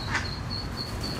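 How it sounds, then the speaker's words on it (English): A lost duckling's high, thin calls ring out a few times at a zoo over a steady low background rumble. "a lost baby duck was making all sorts of noise"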